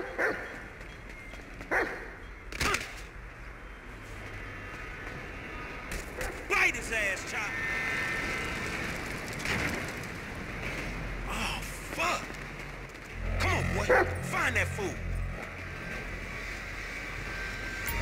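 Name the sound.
dog barking in video game GTA V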